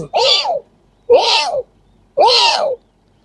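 Three drawn-out, wavering meow-like calls from a human voice imitating a cat, evenly spaced with short silences between them.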